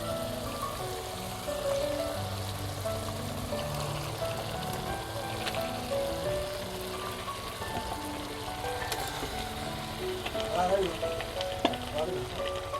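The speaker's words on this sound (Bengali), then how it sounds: "এবার এর মধ্যে আমি ম্যারিনেট করা চিকেনগুলো দিয়ে দেব।" Marinated chicken pieces frying in a cooked-down spice paste for a Bengali chicken curry, with a steady, close sizzle and faint stirring scrapes running throughout.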